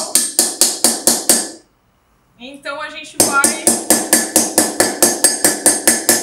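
A small special hammer strikes metal on an anvil in a steady run of sharp, ringing blows, near and loud. The blows pause briefly while a person speaks, then resume.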